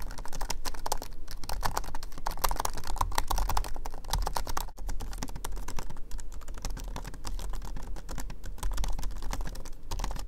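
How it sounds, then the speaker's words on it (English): Rapid, steady typing on a MacBook Pro keyboard whose keys have tiny wraps that make them a little quieter, with dense continuous clicking close by. "Apple added a tiny wrap around the keys to protect them from any dust and debris that could get inside the switches, which also makes the keys a bit quieter than before"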